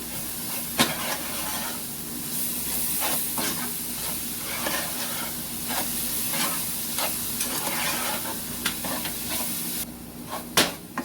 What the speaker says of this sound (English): I have cinnamon, grated ginger, and nutmeg. Just gonna mix everything.